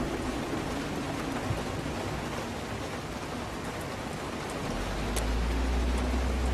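Steady rain falling at night in the Road 96 video game, a dense even hiss of drops that holds unbroken and swells slightly near the end, with no talk.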